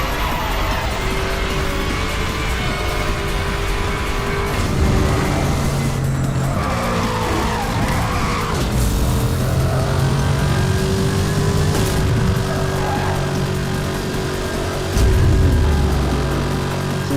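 Racing cars in Need for Speed Hot Pursuit multiplayer: a loud, steady engine roar with tire squeals and skids throughout, swelling briefly near the end as a car surges past.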